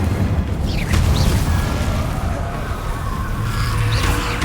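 Confringo fire spell blasts in Hogwarts Legacy alternate with Incendio casts: a dense, continuous barrage of booming, crackling magical bursts with whooshing swoops, loud and unbroken, with no talking.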